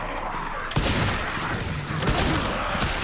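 Rapid gunfire erupts suddenly and keeps going as a loud, dense clatter of shots and bangs, with a voice speaking over it.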